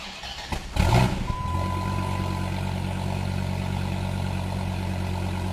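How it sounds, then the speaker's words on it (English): A Dodge Viper ACR V10 cranks and catches with a loud burst, then settles into a steady, rumbling idle heard from inside the cabin, with no talking. "Okay, I'm going to fire it up now."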